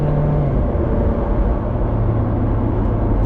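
Steady low wind and road rumble fill the cabin of a 2019 Mazda 3 sedan while driving, a constant dense roar without breaks, loud and enveloping.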